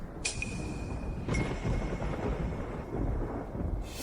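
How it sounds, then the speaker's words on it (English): Thunder rolls in dry weather with no rain, a steady low rumble with a sharper crack near the start and another surge around one and a half seconds, fairly faint and with no voices. "Thunder and lightning, but no rain."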